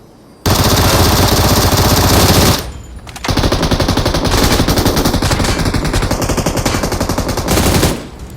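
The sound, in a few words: UMP gun firing in PUBG Mobile video game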